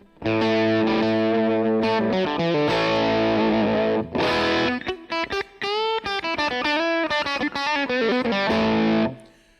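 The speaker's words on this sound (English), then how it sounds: "that's definitely a Vox amp" An electric guitar runs through a pedal emulating a Vox amp, playing loud, slightly overdriven sustained chords and then a busier run of picked notes, close and alone for about nine seconds.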